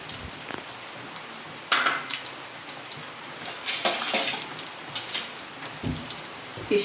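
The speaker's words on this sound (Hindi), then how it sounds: "किशमिश तलूँगी" Raisins frying in hot ghee in a pot on a gas stove, a soft steady crackle and hiss close by with a few sharper pops and clinks of a utensil, no talk.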